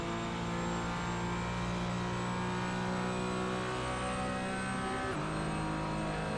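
Porsche Cayman GT4 race cars lapping Daytona in a sim racing game, a continuous droning engine whine of several cars under steady throttle, with a brief gear change near the end.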